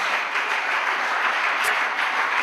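Church congregation applauding during a French-language sermon, a steady wash of dense clapping filling the room at even loudness throughout, with no voices rising above it.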